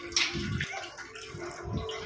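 Water draining off leftover rice that soaked overnight in water, strained into another vessel in a Tamil Nadu village kitchen: a close, continuous pouring and splashing with a faint gurgle, no speech.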